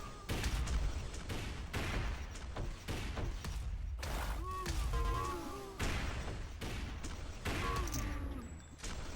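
Rifle fire in a fast-paced first-person shooter duel, sharp repeated shots in irregular bursts mixed with thuds and electronic game effects, loud and close, with a faint voice in the background.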